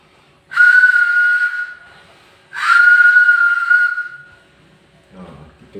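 A homemade whistle fashioned from rubber pipe gives two sustained, steady shrill blasts, each lasting over a second with a short gap between, loud and close, followed by faint handling noise.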